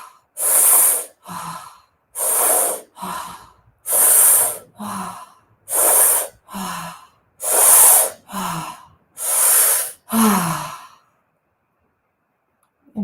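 A person does a breathing exercise, drawing seven strong breaths in a steady rhythm, each a loud, airy inhale followed by a shorter exhale, close to the microphone, then silence.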